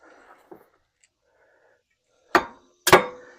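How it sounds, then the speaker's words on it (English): Ball-joint work on a 1996 Jeep XJ: after near silence, two sharp loud hammer strikes ring out about half a second apart, close to the microphone. "this last one's a booger because I have to hammer the other direction"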